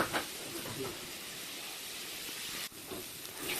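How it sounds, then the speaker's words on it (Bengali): Boiled potatoes frying in a pan, giving a steady faint sizzling hiss that lasts the whole few seconds, close but quiet. "সেদ্ধ করার পর একটু আলুটাকে ফ্রাই করে নিই।"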